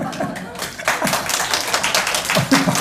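A crowd breaks into clapping, scattered claps building into brief applause mixed with voices and murmuring from the audience.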